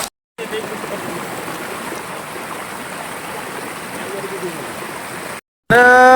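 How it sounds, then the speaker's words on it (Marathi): A small village waterfall rushes in a steady, broadband roar of falling water, heard close, between brief cuts at the start and end. "छोटासा धबधबा आपल्या गावातला छोटासा वॉटरफॉल"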